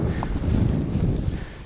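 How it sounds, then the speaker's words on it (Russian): Soft wind rushes and buffets gently across the microphone of a flying Molecula FPV M7 drone, a low steady whoosh with no voices. "такой ветер небольшой есть"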